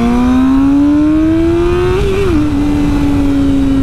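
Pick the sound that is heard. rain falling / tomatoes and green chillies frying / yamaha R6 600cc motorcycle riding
yamaha R6 600cc motorcycle riding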